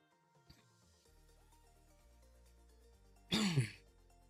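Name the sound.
cough, throat clearing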